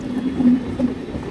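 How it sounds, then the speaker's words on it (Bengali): An EMU local train approaches the Durganagar railway level crossing, heard as a steady low rumbling drone at moderate loudness with no voices. "চমু ট্রেন ঢুকছে দিক থেকে, চমু ট্রেন।"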